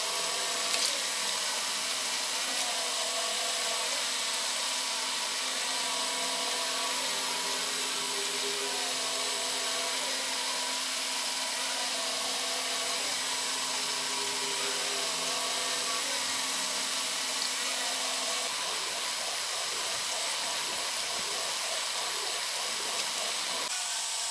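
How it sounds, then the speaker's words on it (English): A Makita drill runs continuously at its lowest speed with a low-torque whir, driving 3D-printed TPU tubing. A steady mechanical drone with faint tonal hum continues for most of the stretch, then changes character near the end. "This Makita drill does have a lot more low-end torque, but this is again the lowest it will do."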